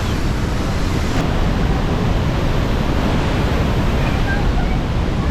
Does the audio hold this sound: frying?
no